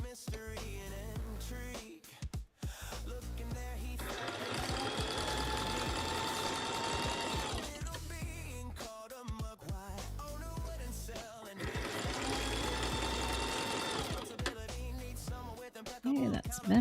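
A sewing machine back stitching a fabric heart bowl, two loud sustained whirring runs of the motor with short bursts and pauses between, close up.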